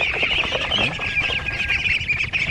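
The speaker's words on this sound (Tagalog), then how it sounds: "Ganyan mga farmmates ang mga peking duck" Pekin ducks crowded in their pen on a farm, a continuous dense chorus of squawks and quacks close by, with a faint voice underneath.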